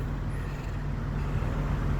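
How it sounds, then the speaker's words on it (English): Diesel trucks pass on a nearby road as a steady, loud low rumble of traffic noise that swells slightly toward the end, with no voices. "I don't know if you can hear it in the background or not, but yeah, diesel trucks are loud."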